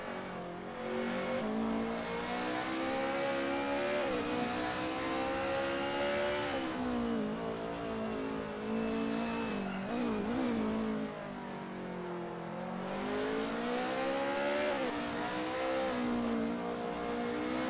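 Race cars accelerating along a twisting touge mountain course in a racing video game, with continuous loud engine whine rising and dropping through gear changes and corners, steady and close for the whole stretch, no voices.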